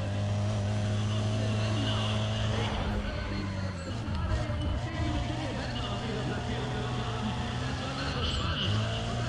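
A car's engine runs at full throttle in Need for Speed Pro Street, a steady, loud, droning roar with a dip in pitch partway through. Speech runs over it throughout.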